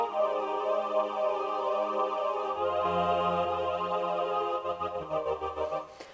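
A sustained synthetic choir pad with left-right tremolo panning holds one chord, then shifts to a lower one halfway through, swaying gently and pulsing toward the end.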